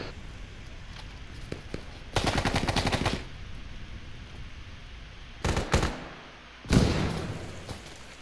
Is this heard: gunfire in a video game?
yes